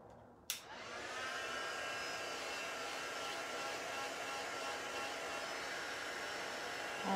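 A hair dryer runs steadily to dry fresh paint on a lighthouse painting, a loud continuous airy whoosh with a whining hum that starts abruptly after a click and holds constant throughout.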